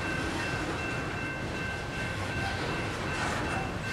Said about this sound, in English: This is the second coal train I captured in 1 month.